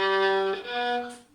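A short violin passage played with a soft, breathy, airy tone, two sustained notes sliding into a third, close and alone.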